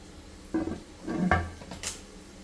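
A metal lid set onto a cooking pot of chicken biryani in a home kitchen, a few close clinks and clatters of metal on metal over about a second, with a brief scraping rattle afterward.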